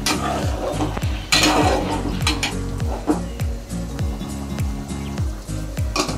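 Mutton sautéed with cinnamon and cardamom is stirred in a pan, with repeated scraping strokes over a constant sizzle and a steady droning hum underneath.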